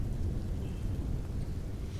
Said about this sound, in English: Heavy acid rain.